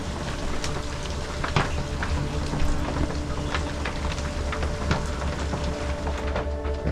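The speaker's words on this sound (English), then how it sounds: "listen to that hail" Hail falls hard during a tornado storm, a dense, steady roar of pelting with scattered sharper cracks of stones striking surfaces, close and continuous.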